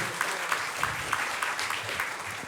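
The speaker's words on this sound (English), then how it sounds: "let's give a round of applause to the staff" Applause for the staff at an inauguration ceremony, a short burst of scattered clapping from the audience with distinct individual claps audible, moderately loud.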